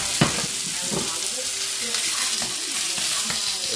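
Food sizzles and fries loudly in hot oil in a pan, a steady bright crackle with small pops throughout and no voices over it.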